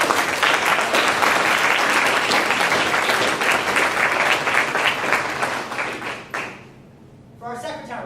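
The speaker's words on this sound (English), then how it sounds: "a full round of applause, please, for our JV captain" A crowd gives sustained, loud applause for a newly inducted JV captain at an officers' induction ceremony. The clapping fades after about six seconds, and a voice then speaks over a quieter room.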